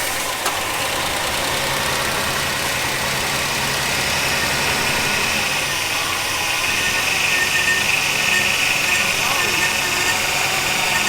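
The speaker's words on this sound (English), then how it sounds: "You'll just kind of crank it and then stop and then crank it and stop." A 1971 Ford F100 pickup, a barn-find truck under rebuild, runs with a steady engine drone throughout, close and fairly loud, with voices faintly present beneath.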